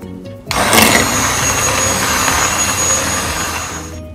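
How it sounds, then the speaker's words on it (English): Blender whirring loudly through tomato and lentil soup, starting abruptly after a brief quiet moment and running steadily at close range, with a dense grinding motor tone that holds to the end. "get my blender and just blend about half of it"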